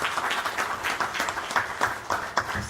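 An audience at a public justice forum claps in welcome, a moderate, even patter of many hands that swells and dips slightly over a few seconds.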